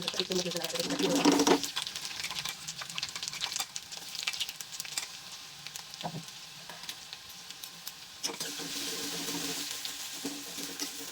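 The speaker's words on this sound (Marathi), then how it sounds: "थोडंसं तेलात मी परतून घेतलं." Garlic and spices fried in hot oil for garlic chutney give a soft, steady sizzle with a louder burst early on and occasional stirring clicks. A person talks over it.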